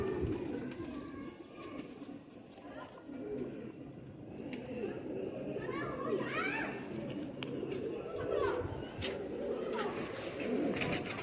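Teddy Sialkoti pigeons coo in a loft, the soft low rolling coos repeating steadily near at hand, with other birds chirping and someone talking throughout.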